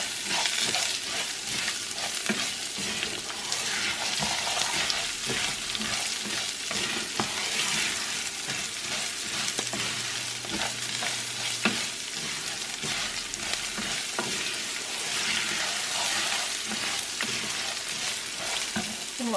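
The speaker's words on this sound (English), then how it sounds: "We're going to give this a quick stir." Rice sizzles loudly as it fries for Mexican rice, arroz rojo, and is stirred in the pan. A steady close crackle runs for the whole stretch, broken by a rhythm of scraping strokes.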